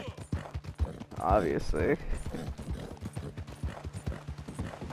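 Horse hooves clip-clop steadily in Red Dead Redemption 2, a regular trotting rhythm running under a voice talking throughout, with a brief livelier stretch of speech near the start.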